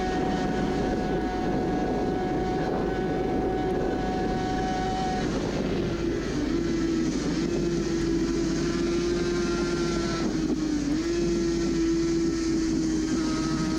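A Suzuki RG500 racing two-stroke motorcycle ridden flat out at high speed, its loud continuous engine drone holding a steady pitch that shifts upward near the middle, with strong wind rush throughout and no talk.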